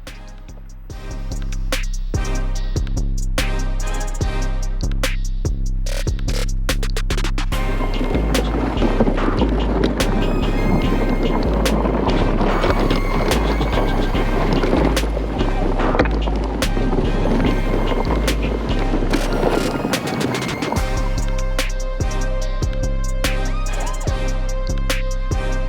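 Ego and Greenworks electric minibikes race in a timed head-to-head run, a continuous loud motor whine and wind rush sustained for the whole stretch, rising in intensity midway and holding steady to the end.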